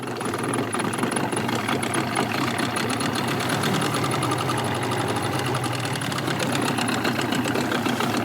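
A boat outboard motor runs steadily on a winter fishing trip, a loud continuous mid-pitched engine drone with a rapid knocking pulse, close by and without talk throughout.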